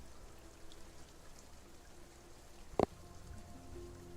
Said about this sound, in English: It's really weird how they have the rain.